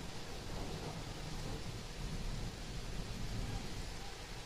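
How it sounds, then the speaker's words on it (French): A dense, steady roar of heavy rain from a night thunderstorm, faint and constant throughout, with no distinct thunderclaps standing out. "C'est juste de l'orage."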